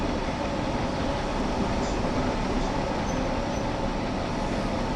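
A DB train rumbles steadily through the Ruhr-Sieg Nord route near Hagen in Train Sim World, a continuous broadband roll of wheels and running gear, loud and unbroken, with no talking.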